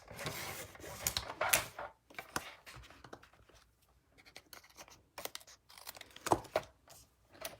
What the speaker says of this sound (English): So you guys get to watch me cut my paper.